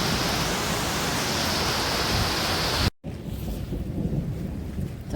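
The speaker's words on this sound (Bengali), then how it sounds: "এই দেখি আর বাইরে দিকে বৃষ্টি শুরু হয়ে গেছে আবার।" Heavy rain pours down outside a restaurant in Darjeeling, a dense, loud, steady hiss that cuts briefly and then continues a little softer.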